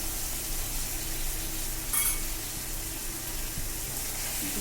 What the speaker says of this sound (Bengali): এবার এতে দেব টমেটো পিউরি